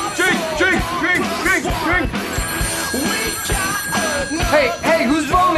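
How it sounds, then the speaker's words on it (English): A telephone bell rings in repeated bursts at a party, loud and close, with voices and crowd chatter running underneath and around it. "벨 소리가 울리는데 어디서 울리는지 모르겠습니다"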